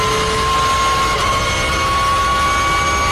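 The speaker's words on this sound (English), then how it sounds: "The straight cut gears sound amazing." A Porsche GT3 race car in the iRacing sim holds a loud, unbroken engine drone, with a steady high whine from its straight-cut gears running over it.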